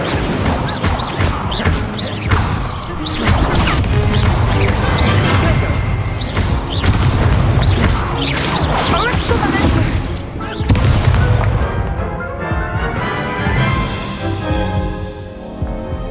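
A fiery Incendio spell cast in combat within a video game: heavy booming crashes and whooshing bursts come in quick succession over a loud, busy mix, then fade into a ringing tail near the end.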